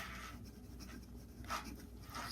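A 14 karat Stipula flex medium gold fountain pen nib, silver plated, scratches lightly across paper without pressure in a few short, faint, close strokes, with no talking.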